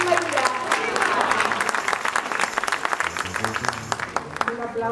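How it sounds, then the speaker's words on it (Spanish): Applause from a church congregation honoring the Virgin Mary, the Lord and a dance ministry at a Catholic feast-day celebration: dense, sustained clapping from a crowd, with a voice speaking over parts of it. "Un aplauso, hermano, para la mamita Virgen, para el Señor, y también para este ministerio de danza"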